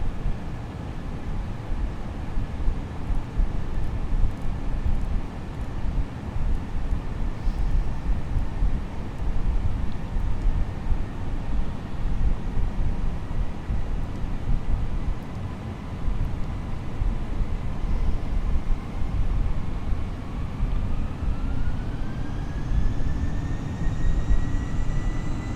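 Airbus A318 jet engines drone steadily during a climb toward flight level 210 in Microsoft Flight Simulator 2020, a continuous low rumble with a rising whine near the end as thrust changes.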